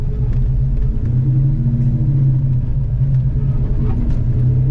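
A Ford Coyote V8 swapped into a car runs loud and close, a constant low rumble with a steady idle drone, no talking over it.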